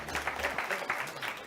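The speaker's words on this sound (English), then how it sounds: "Give a big round of applause." Brief burst of audience clapping at a meeting, fairly faint and mixed with some voices.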